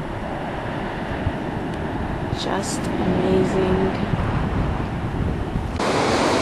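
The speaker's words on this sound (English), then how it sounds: "look at the waves crashing" Steady roar of ocean surf at Bodega Bay dominates the clip, a broad wash of crashing waves mixed with wind buffeting the microphone, while a person speaks briefly over it.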